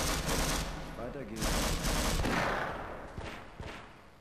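Rapid gunfire rattles in Half-Life: Source, loud and dense bursts of shots filling the first seconds and then tapering into scattered pops. A voice talks partly over the shooting.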